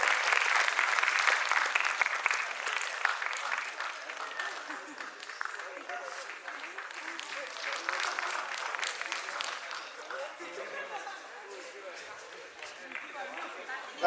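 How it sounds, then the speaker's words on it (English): An audience at a quiz regional final applauds steadily for about fourteen seconds, a dense crowd clapping that starts loud and slowly tapers off, with a few voices faintly underneath. "Can we have a round of applause"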